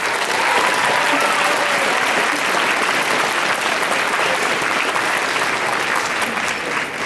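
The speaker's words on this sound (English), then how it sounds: "Give these guys a round of applause." Loud, sustained applause from a concert audience fills the room for band students at a 7th and 8th grade Christmas band concert, a dense continuous wash of clapping with no break.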